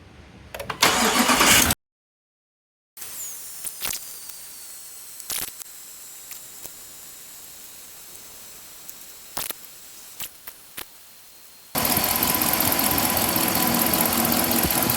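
A Jeep Grand Cherokee HEMI V8 sits through a long, quiet stretch broken by scattered clicks. Its engine then cranks and catches with a sudden loud roar and settles into a steady, close idle.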